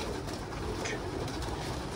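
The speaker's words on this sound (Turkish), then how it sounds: "Bugün ikinci güvercin şu anda." Pigeon cooing near a coop, a soft low coo running under steady broadband background noise for about two seconds, with no talking.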